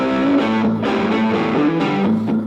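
Distorted electric guitar played through a BOSS GT-1000 multi-effects unit on its Governor DS drive, sustained overdriven chords and notes ringing loud and continuous with no talking.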